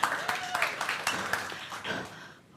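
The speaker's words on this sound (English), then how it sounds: "let's give a big round of applause" Scattered claps and cheers from an event crowd at a startup pitch expo and party, uneven bursts mixed with shouting voices, tapering off toward the end.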